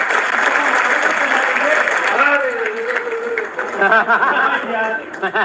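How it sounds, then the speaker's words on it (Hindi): Audience applause at a gathering, a steady wash of clapping running throughout, with people talking and calling out over it near the end. "एक बार जोरदार तालियां।"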